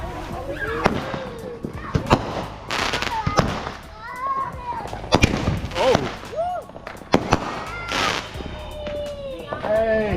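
Fireworks exploding on the Fourth of July, a rapid series of sharp cracks and bangs with whistling, crackling bursts, close and loud, while people talk and shout throughout.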